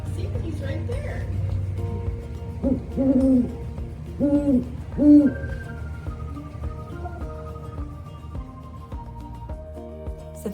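An owl at a bird of prey rescue near Daytona Beach, Florida, gives a short series of three or four deep, clear hoots in the middle, over a quiet outdoor background with faint voices.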